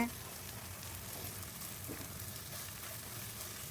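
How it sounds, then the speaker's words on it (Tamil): Egg and mixed vegetables frying and being stirred for street-style chicken fried rice, a steady dense sizzle like light rain, fairly faint and even throughout. "முட்டை கொஞ்சம் நல்லா குக்கான பிறகு காய்கறி எல்லாத்தையும் சேர்த்து நல்லா கிண்டி விட்டுக்கோங்க"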